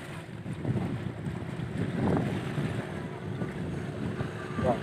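A boat engine runs on the river at Vàm Tuần, a steady rumbling drone mixed with wind buffeting the microphone and water noise, continuous and moderately loud.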